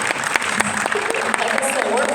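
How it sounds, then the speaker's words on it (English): Audience applause at a clean energy and water equity event, a brief steady patter of clapping from a modest crowd, with a voice speaking over it partway through. "And don't be afraid to clap."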